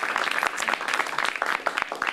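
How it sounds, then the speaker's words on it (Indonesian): An audience at a stand-up comedy league show claps steadily and densely for about two seconds, a close, continuous patter of many hands with no voices on top. "tepuk tangan dulu dong buat kita semua"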